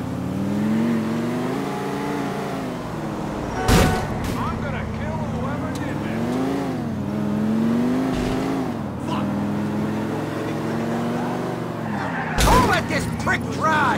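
A car in Grand Theft Auto IV drives with a steady engine drone that rises and falls as it revs, loud and continuous, with two sharp bangs along the way; a voice may be audible over the engine.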